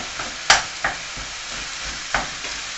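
Beef and ground spices frying in a pan for chilli con carne: a constant hissing sizzle broken by a few sharp scrapes and taps as the meat is pushed around.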